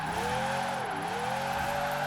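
A drift car in the racing game Forza Horizon 4 holds a loud, steady engine note that dips and swells as its tires skid and squeal.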